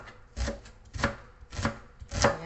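Onions being cut with a knife on a board, four slow, evenly spaced chops that land close and fairly loud, with no talking.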